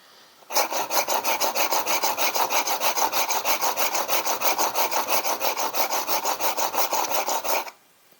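A dull chisel being sharpened, rubbed back and forth on a sharpening stone in a steady rhythm of about twenty close, even, gritty strokes, heard alone without talk.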